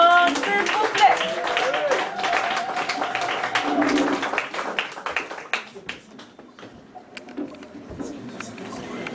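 Audience applause at a slam poetry session in a Montréal bar, a burst of clapping that fades out over several seconds, with voices murmuring and talking beneath it.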